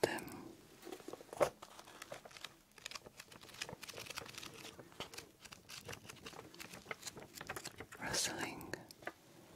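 Close, soft crinkling and rustling of dry, papery material with scattered taps and crackles, quiet and intimate under a low whispering voice.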